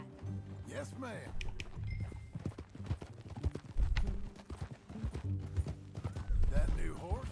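Horse hooves clip-clop at a steady walking rhythm in Red Dead Redemption 2, the riding sounds continuing under characters' dialogue and occasional background game sound.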